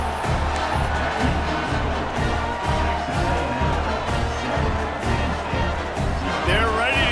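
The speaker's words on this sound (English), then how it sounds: "this crowd is buzzing after that last score" Virtual stadium crowd in EA Sports College Football 26, buzzing after a score and extra point: a dense, steady, loud roar filling the scene, with a voice faintly underneath.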